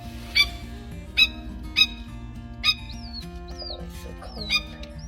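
Short squawking bird calls ring out five or six times at uneven intervals over a droning musical background, with a couple of swooping whistled notes between them.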